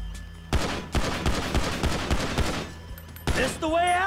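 Rapid bursts of video-game gunfire from GTA 5, a string of sharp shots spaced through the middle of the clip, mixed with game sound effects and ending in a brief electronic warble.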